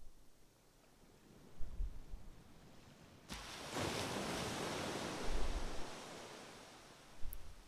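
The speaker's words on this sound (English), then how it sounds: "listening to the ocean sounds" Ocean waves wash in and recede with soft rolling surf and a loud breaking surge midway, steady hiss of water and light wind noise throughout.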